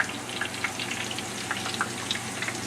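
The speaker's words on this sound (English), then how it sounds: "Once our sauce begins to simmer, steaks will continue to cook and they'll finish up cooking there in the pan." Steaks cook in a simmering sauce in a pan, giving a close, continuous bubbling sizzle with small pops scattered through it.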